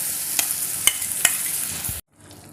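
Ground masala frying with onions in a pan, a close hiss of sizzling with a few sharp stirring clicks, cutting off abruptly near the end, no voices.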